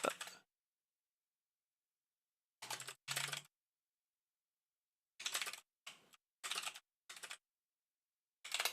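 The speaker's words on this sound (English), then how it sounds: "sorry, I was typing." Close bursts of rapid typing on a computer keyboard, separated by short silent pauses, clicking clearly in an otherwise quiet room with no talk.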